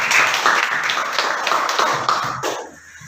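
A classroom of students claps for a presenting group, a lively burst of many hands with rhythmic peaks that tapers off near the end.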